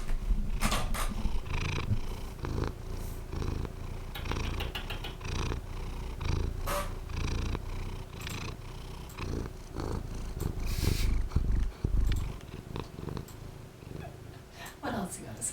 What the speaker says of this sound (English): Can you hear potato purring?